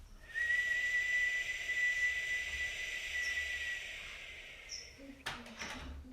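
A person purses their lips and whistles out one long breath, holding a steady, fairly bright tone for about four seconds before it trails off, with soft breathy air noise around it.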